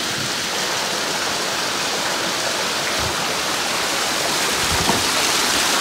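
A mountain stream flows through a forest, its water rushing and splashing in a steady, dense wash that stays loud and unbroken throughout, with no voices.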